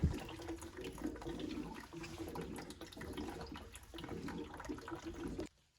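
Water gushes and gurgles steadily as it drains through two open valves of a Navien tankless water heater, a churning flow with slight pulsing, close up, then cuts off abruptly at the end.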